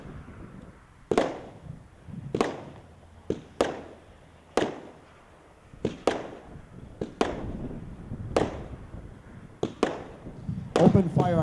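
A Sabotage consumer firework at a dealer show fires a string of loud aerial bursts, roughly a dozen sharp booms with a rumbling tail after each, ending in crackling, heard from a short distance outdoors.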